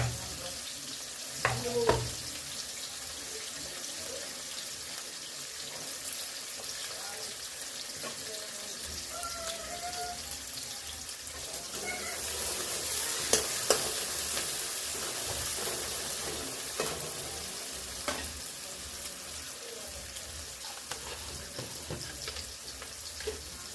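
Onions frying in a pan at home, a soft continuous sizzle with occasional clinks and stirring knocks and a brief burst of running water, moderately quiet throughout.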